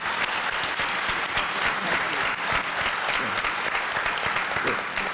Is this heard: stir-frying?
no